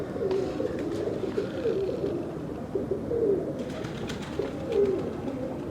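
Domestic Mistri breed pigeons cooing close by in repeated soft, throaty rolling calls over a steady low background murmur.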